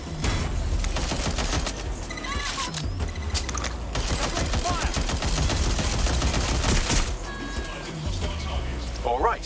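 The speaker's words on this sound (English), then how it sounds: "Suspects shooting!" Gunfire in the video game Watch Dogs Legion: a dense, sustained fusillade of rapid shots, like automatic weapons, runs nearly the whole time, with a few brief gaps and some in-game voices mixed in.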